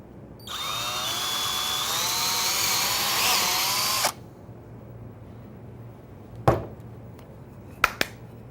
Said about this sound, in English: with just one bit, I'm ready to drill the pilot hole, the countersink, and the counterbore